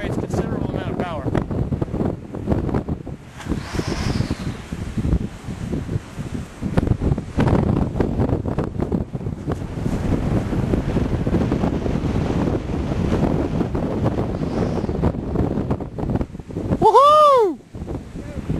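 Strong wind of about 20 mph buffets the microphone throughout an outdoor power kite test, a loud, rough, continuous roar. A voice talks over it, and a whistling tone rises briefly near the end.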